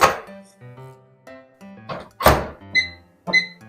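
Microwave door thunking shut for heating tea, a few dull close thumps and knocks with faint music in the background.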